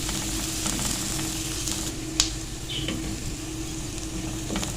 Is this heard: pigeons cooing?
no